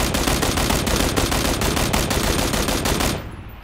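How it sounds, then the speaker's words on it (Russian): Automatic gunfire in the video game PlayerUnknown's Battlegrounds, a loud, steady burst of rapid repeating shots lasting about three seconds before cutting off abruptly, with no talking. "А по мне еще где-то стреляют?"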